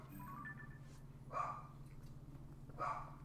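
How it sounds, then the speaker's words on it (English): A puppy gives two separate sharp barks, a couple of seconds apart, from a distance under a steady low room hum. "elder puppy is barking right now as I'm doing this"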